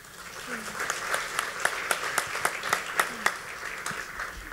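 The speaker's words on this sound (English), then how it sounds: "a hand of applause to you guys" Applause from an award ceremony audience: scattered, fairly sparse hand claps with a few sharper individual claps, moderately loud over a murmur of voices.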